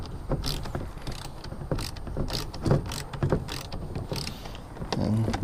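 A fastener on a kayak modification is cranked tight with a ratcheting tool, giving a steady run of close, rapid mechanical clicks and clatter with no talk.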